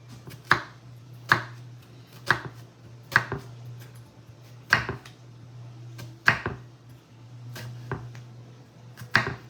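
A knife chops through an onion on a cutting board, sharp single strikes spaced irregularly about once a second, close and clear against a low steady hum.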